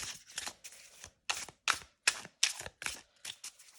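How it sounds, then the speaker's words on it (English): Quick bursts of tarot cards being shuffled, crisp papery flutters in short uneven clusters, close and fairly soft with brief pauses between. "give them a quick shuffle"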